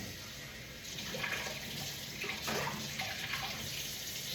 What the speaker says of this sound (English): Gotta rinse this off really quick